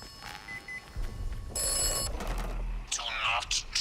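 Telephone ringing inside the video game Atomfall, a bright electronic bell tone sounding in a short burst over ambient game noise and low rumble, with a voice talking nearby.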